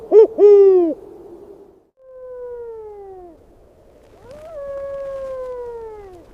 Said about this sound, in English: In the high branches of the frosted pines, beneath the dense coniferous canopy, a great horned owl swivels its head.